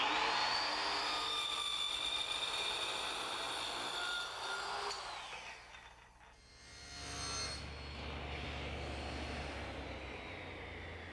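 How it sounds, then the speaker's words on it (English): A circular saw tilted to a 4-degree bevel rips through a wood blank guided by a straight edge clamp, a loud continuous whine with a shift in pitch and a dip partway through the cut. "I'm using a straight edge clamp and my circular saw, which I've actually tipped to 4 degrees"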